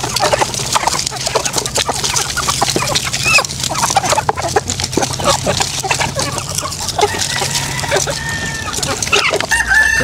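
Giant breed chickens cluck busily throughout, with a rooster crowing amid the flock and steady farmyard background noise.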